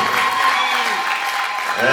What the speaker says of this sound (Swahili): Mpigie makofi mengi sana muungwana huyu.